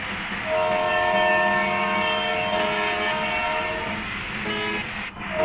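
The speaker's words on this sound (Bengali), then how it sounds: "আমরা ট্রেনের শব্দ শুনতে পাচ্ছি, হয়তো আমাদের নিচ দিয়ে ট্রেন যাচ্ছে।" In a Bangladeshi bus simulator game, a train passes with a long sustained horn blast, steady and prominent over rolling rail noise, with a second horn tone briefly near the end.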